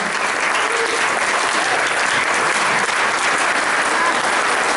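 Sustained applause from an audience at a book launch event fills the room, a dense, even wash of many hands clapping close and loud without pause.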